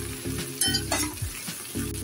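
Cooked rice is stir-fried with fried vegetables in a pan for a vegetarian fried rice, a loud close sizzle broken by repeated scraping strokes of a spatula against the pan in an uneven rhythm.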